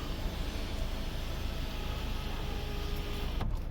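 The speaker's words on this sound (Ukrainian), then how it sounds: "Показую вам, як відкривається люк." A 2016 Audi A3 Premium 2.0T Quattro's sunroof opens with a steady, fairly loud motor whir and broad airy hiss that runs for several seconds and then cuts off abruptly near the end.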